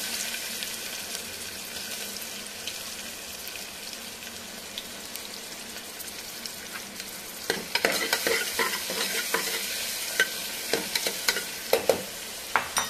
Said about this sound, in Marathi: हे जे वाटलेलं अद्रक आणि लसूणची पेस्ट आहे ती पेस्ट टाकूया। त्याच्यानंतर कांदा,